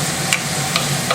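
Bacon frying in oil in a pan for carbonara, a steady close sizzle with three brief clicks of a wooden spoon stirring against the pan.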